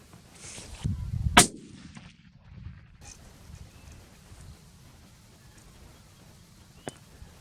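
A single 7mm-08 rifle shot fired outdoors while zeroing a newly upgraded scope, with one sharp, loud crack followed by quiet, faint wind and a small knock later on.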